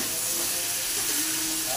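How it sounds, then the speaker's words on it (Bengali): Katla fish head stir-frying in a pan gives a steady, loud broadband sizzle and hiss that fills the whole stretch without pause, with no voices over it. "একটু ভালো করে একটু কষি।"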